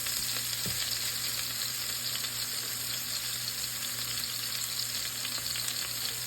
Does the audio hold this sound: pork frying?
yes